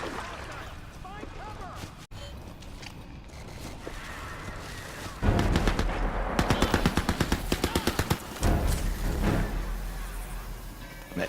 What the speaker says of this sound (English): That turret's picking off.